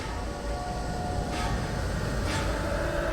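Thomas the Tank Engine train effect: a steady, loud rumbling roll with a sustained tonal whine and two brief hissing bursts, continuous and close.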